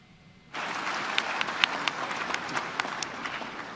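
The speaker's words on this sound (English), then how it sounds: "She's not inspired by the applause." Applause breaks out abruptly from a crowd during a Greta Thunberg speech and continues as steady, moderately distant clapping with a few sharper claps standing out.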